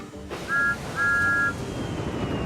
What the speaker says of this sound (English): with a toot of his whistle,